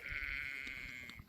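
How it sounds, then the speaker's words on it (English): A sheep gives a single sustained bleat in a pasture during lambing, moderately close but soft, with faint ambient rustle and no talk. "you don't disturb them sheep, and they can pair back up with themselves"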